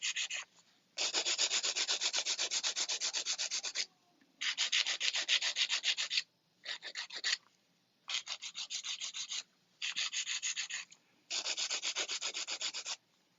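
A 100 grit file shapes acrylic nails in rhythmic bursts of close, steady rasping strokes, with short pauses between each passage.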